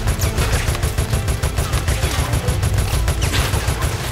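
Rapid, evenly spaced gunshots from the Resident Evil Operation Raccoon City video game form a loud, continuous automatic-weapon rattle throughout.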